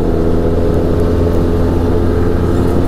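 Arctic Cat Wildcat Trail XT side-by-side driven from the cab: a loud, steady engine drone with a constant whir, close and continuous with no talk.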